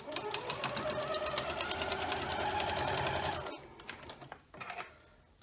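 Sewing machine stitching quilt columns together for a scrappy Thanksgiving project: a steady, fast mechanical chatter of the needle running close and continuous for about three and a half seconds, then stopping, followed by a few softer handling clicks.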